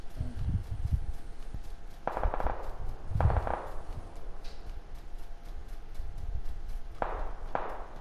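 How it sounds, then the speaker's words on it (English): Gunfire in the battle royale game PUBG cracks out in a few separate sharp bursts, two close together early and another pair near the end, over a steady low in-game background. "Gunfire on the right, too."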